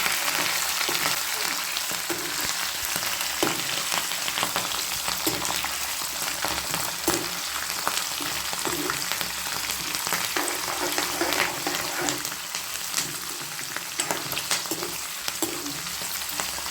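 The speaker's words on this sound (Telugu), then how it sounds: "పచ్చిమిర్చి కరివేపాకు అవి కూడా చక్కగా వేగనివ్వాలి మొత్తం" Dry red chillies, green chillies and curry leaves sizzle in hot oil as a tempering for an Andhra-style yam and spinach curry, a steady close crackling frying sound with occasional stirring scrapes and no talk.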